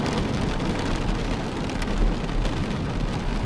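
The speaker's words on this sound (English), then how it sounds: "Why does it sound like it's raining?" A steady rain-like hiss plays in the video game The Stanley Parable, a dense, continuous patter with a low rumbling undertone, holding at an even, fairly loud level throughout with no voices.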